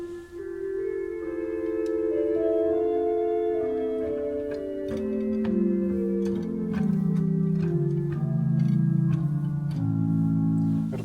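A flute stop on a pipe organ plays a sustained melody with a very fast tremulant, so the held notes shimmer and pulse quickly, with clicks from the key action running underneath.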